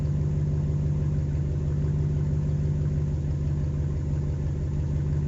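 A car engine with a performance muffler idles steadily with a deep, throaty low hum, constant and fairly close, with no revs or voices.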